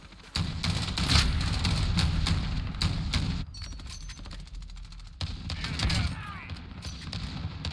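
Gunfire in the Modern Warfare video game, including a golden 725 shotgun, comes as dense, loud bursts of shots and impacts in two stretches separated by a quieter pause.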